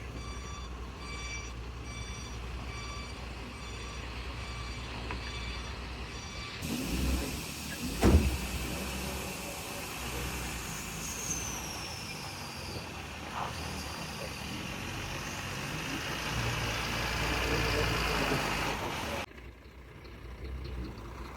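A pickup truck reverses with its engine running steadily while repeated reversing beeps sound, plus a brief clunk partway through and a broad mechanical hum.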